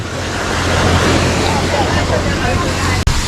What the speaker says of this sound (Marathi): आणि बघा खालूनच नदी वाहते